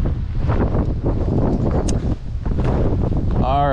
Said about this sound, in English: Holy fucking wind.